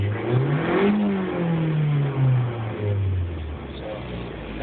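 A car engine revs up close, its pitch climbing and then easing as RPM rises and falls, with a steady mechanical drone underneath.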